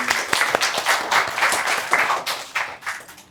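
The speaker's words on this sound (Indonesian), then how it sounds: "Boleh tepuk tangan buat Kang Denny." An audience at an Indonesian book talk applauds the author Kang Denny Agus: a steady round of dense clapping from a seated crowd that swells and fades over a few seconds.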